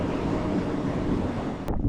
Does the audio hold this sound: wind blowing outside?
yes